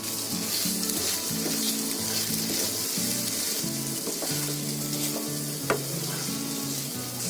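Onion and green chili fry in a pan for a chicken Patiala gravy, a dense steady sizzle running throughout with occasional stirring scrapes and a sharp clink near the end; no speech.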